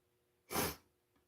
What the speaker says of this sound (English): Don't mind the sniffling